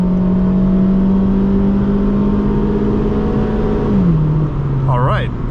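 A 2001 Honda Civic LX pulls hard from a launch with no wheel spin, its engine drone climbing steadily toward about 6,700 rpm, then dipping briefly at a shift, loud and continuous inside the cabin.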